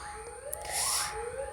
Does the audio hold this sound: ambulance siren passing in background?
yes